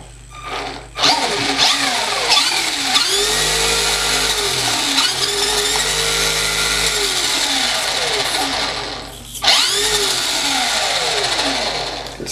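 A Redcat Volcano 18 V2 RC truck whines as its motor spins the wheels up fast, with repeated rising and falling bursts of high-pitched drive noise, close and loud.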